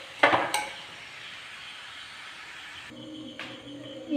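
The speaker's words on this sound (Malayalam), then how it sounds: "ഇനി നന്നായിട്ടൊന്ന് മിക്സ് ചെയ്ത് ഒരു ലോ ഫ്ലെയിമിലിട്ട് ഒന്ന് വേവിച്ചെടുക്കാം" A spoon clatters against a pan while bitter gourd curry with curry leaves is stirred over a low flame, giving a couple of sharp scrapes and knocks at the start, a soft simmering hiss, then more stirring clinks near the end.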